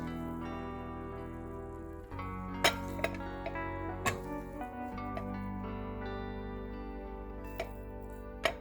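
Dishes and cutlery clink as Kerala cabbage thoran is served, with a handful of sharp, scattered clinks and taps sounding faintly over a steady tonal background hum.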